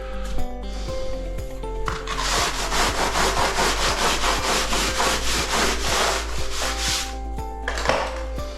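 A timber straight edge drags across wet mortar while a shower base is screeded, giving a steady, close rasping scrape with faint repeated knocks under it, continuous for several seconds and no talking.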